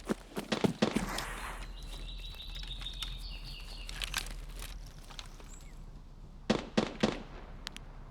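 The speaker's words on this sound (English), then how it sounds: "Scavs and PMCs shooting each other, but they're not actually killing each other." Scavs and PMCs trade distant gunfire in Escape from Tarkov, heard as sharp cracking shots in clusters at the start and again near the end, with a steady low rumble and a faint whine between bursts.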